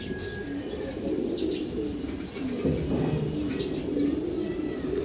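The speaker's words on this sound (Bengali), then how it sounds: "এই এক পেয়ার কবুতর দেখেন" Giribaz racing pigeons, a pair offered for sale, coo softly in a loft with chirps and wing rustles, steady and close.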